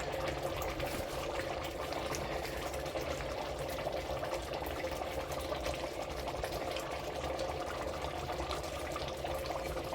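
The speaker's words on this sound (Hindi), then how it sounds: "ये चावलों का पानी बॉयल हो चुका है, तो इसमें हम चावल डाल देंगे।" Water for basmati rice boils steadily in a cooking pot, a faint, even bubbling hiss that runs on without a break and with no voices.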